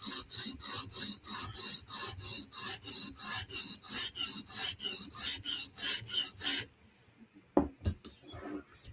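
A knife edge is sharpened on a Hapstone RS sharpening system, about twenty even, rhythmic rasping strokes of stone on steel, close and clear, then a pause and a few faint clicks.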